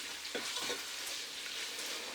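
Chicken and chorizo sausage frying in a pan, giving a steady broadband sizzle with a few soft stirring scrapes near the start, close and fairly quiet, with no voices.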